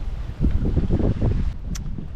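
Cold wind blows outdoors at a lake in Michigan's Pinckney Recreation Area, a steady rumbling gust buffeting the microphone, loud and close, with no voices.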